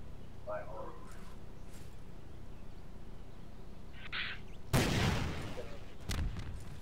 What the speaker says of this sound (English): Maybe want to fire that rocket at the house?